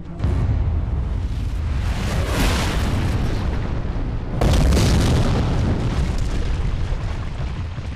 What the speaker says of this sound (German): Die haben das Ding ferngezündet.